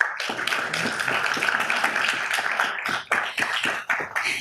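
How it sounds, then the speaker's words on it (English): Applause at a city council meeting fills the room with dense, steady clapping from a crowd. A few louder claps stand out near the end. "Give them another round of applause, please."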